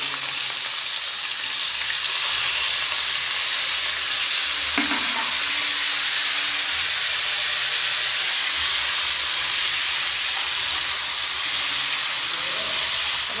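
Mustard seeds and curry leaves fry in hot oil, a loud continuous hissing sizzle with a few faint pops and stirring clatters, close up and without talk.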